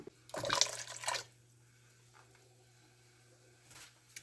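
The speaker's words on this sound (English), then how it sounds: "Next, we are adding 1 cup of unsweetened apple juice" Unsweetened apple juice pours into a pot for strawberry sauce, a close splashing gush lasting about a second, then quiet with a low hum and a faint trickle near the end.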